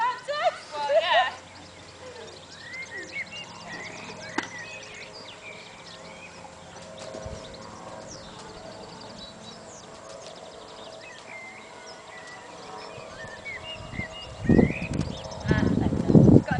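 A horse at a walk outdoors, its hooves making soft, irregular clip-clops amid birdsong, with quiet stretches and a louder cluster of thumps near the end; people talk nearby.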